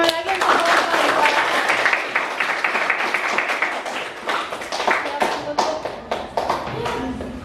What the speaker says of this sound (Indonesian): kita tepuk tangan lagi untuk kelompok